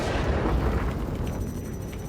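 A missile explodes in the Star Citizen space game near an asteroid, giving a dense, sustained booming roar that stays loud throughout before tapering slightly.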